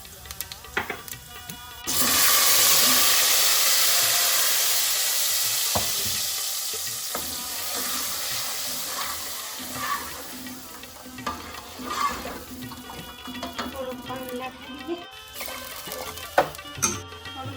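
Cumin, asafoetida and small chillies hit hot oil in a tempering for dal dhokli, bursting into a loud sizzle that slowly fades under stirring and light clinks of a utensil.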